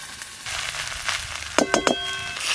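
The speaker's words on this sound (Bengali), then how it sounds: "অল্প একটু জল এইভাবে ছড়িয়ে দেবো।" Sushni greens sizzle steadily in a hot frying pan as a little water is sprinkled over them, bringing a few sharp crackling spits near the end over the continuous frying hiss.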